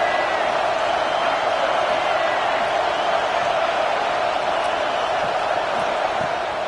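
A stadium crowd in EA Sports College Football 25 roars in a steady, continuous wash of noise, with a commentator's voice partly under it.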